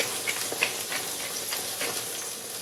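Butter sizzles steadily in a pan with spinach, peas and fennel, a continuous close frying hiss with small crackling pops, and no talking.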